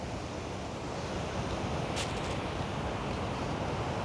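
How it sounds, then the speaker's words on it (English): Ocean surf at Main Beach on the Gold Coast, a dense steady roar of breaking waves heard close with no pauses, a faint brief hiss near the middle, and no voices. "I'll just take the microphone out just so that you can hear the surf."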